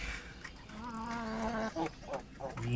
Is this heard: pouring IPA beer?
no